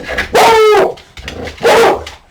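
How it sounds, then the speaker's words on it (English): A dog barks at someone walking down the road, giving two loud, close, drawn-out barks with a whining, howling quality, separated by a short pause. "My dog is about to go ballistic."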